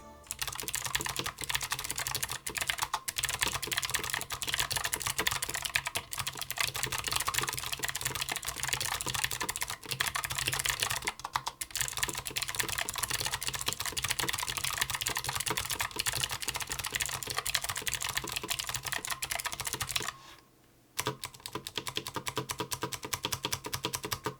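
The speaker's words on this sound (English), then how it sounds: "These are Cherry MX Blue, but you can also get them in Cherry MX Reds." Rapid, clicky typing on a Tesoro Gram Spectrum low-profile keyboard with Cherry MX Blue switches goes on continuously, close and crisp, with a brief pause near the end before resuming.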